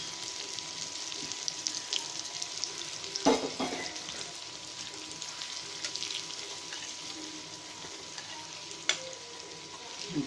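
Hot oil poured over garlic for spicy red-chilli idli podi, producing a soft continuous sizzle with a few clatters of a utensil against the pan, fairly quiet and heard alone without talking.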